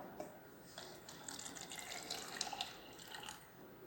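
Water pours into an empty bottle in a quiet classroom setting, a faint, continuous trickling splash with small gurgles and drips rising in the middle before tapering off.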